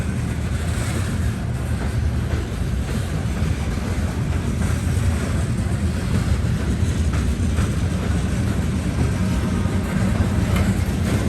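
A heavy freight train crawls up a hill, its locomotives working hard, giving a steady, dense low rumble with broadband rolling noise and no voices.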